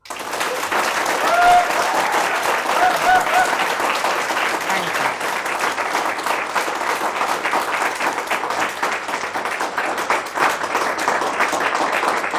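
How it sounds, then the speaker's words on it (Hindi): Audience applause in a television newsroom, loud sustained clapping from a crowd that continues evenly throughout. "तालियां ज़ोरदार होनी चाहिए"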